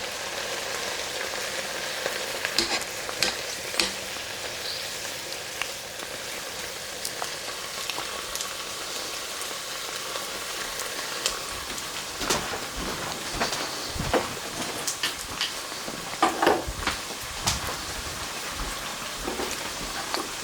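Sausage frying in a small amount of grease in a soup pot, a continuous soft sizzle and crackle with scattered sharper pops, fairly quiet and steady with no talking.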